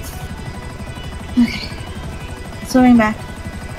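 A helicopter in GTA Online throbs with a steady low rotor chop beneath a player's voice, with a couple of brief sharp game noises along the way.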